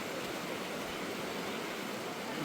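Steady, even rush of flowing river water in a misty, cloud-covered landscape, continuous broadband wash with no pauses, close and moderately loud, no voices.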